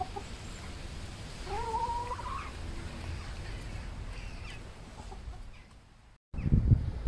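Hens cluck with a short, rising call that stands out over a steady rustling background, then a loud, close bump of noise at the end.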